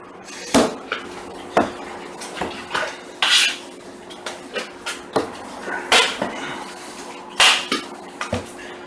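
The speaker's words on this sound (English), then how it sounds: "I'm going to give everything a good stir" A spoon stirring Irish stew ingredients in a full pot, giving close, irregular knocks and clanks against the metal with soft sloshing between strikes.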